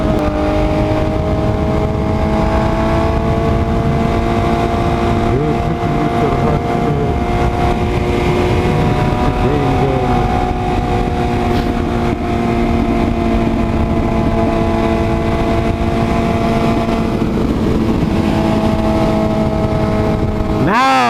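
Loud Maserati engine roaring hard under full throttle while racing an Audi RS3, a sustained dense growl with rising and falling harmonic tones, close and continuous throughout with wind rush.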